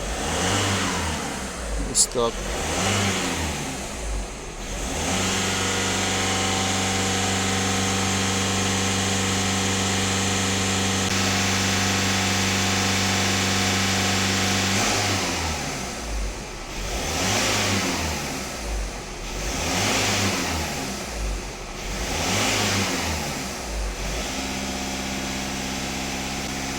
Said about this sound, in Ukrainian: Автомобіль зараз сам піднімає оберти, як йому потрібно провірити.